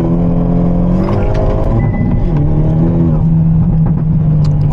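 Manual Hyundai Elantra N engine revving hard while brake boosting, a loud, steady held drone with a pitch shift partway through, close and continuous with no talk over it.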